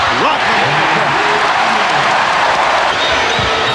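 Basketball arena crowd in Chicago roaring with cheers and applause at an NBA Finals game, a dense continuous wash of noise throughout with a commentator talking over it.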